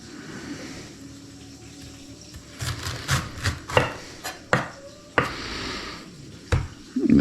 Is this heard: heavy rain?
no